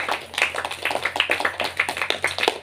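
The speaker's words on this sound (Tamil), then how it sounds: "கைத்தட்டி நம்மை நாம் பாராட்டிக் கொள்வோம்" A church congregation at a Mass for the feast of Saints Peter and Paul claps hands together, a dense burst of many hands with a fast, uneven rhythm, loud and close.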